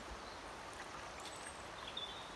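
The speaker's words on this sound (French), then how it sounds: "Donc là, je vais rincer ma laine." Wool fleece being rinsed in water, a steady watery rush and trickle with faint sloshing, close and alone with no voices.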